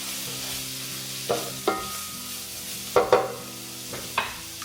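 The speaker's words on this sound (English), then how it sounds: "Then I'm also going to add in my seasonings, my spices, which are Aleppo chili, powdered garlic, and oregano. Give that a little stir." In a sizzling skillet of shepherd's pie filling, Aleppo chili, garlic powder and oregano are stirred in; a steady close sizzle is punctuated by several distinct spatula scrapes and clinks against the pan.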